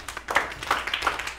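Children in a primary school classroom clapping, a short quick burst of uneven claps close by.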